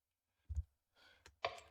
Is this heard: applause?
no